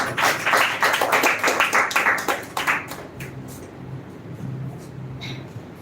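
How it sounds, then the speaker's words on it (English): An audience claps for a speaker in a dense round of applause that rings out for about three seconds, then tapers into scattered claps and quiet room noise. "Clap for her"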